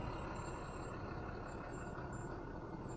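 A truck idling in traffic near an elementary school, heard from inside a car as a steady low engine rumble with a faint high whine running throughout.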